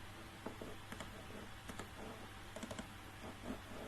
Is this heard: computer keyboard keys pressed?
yes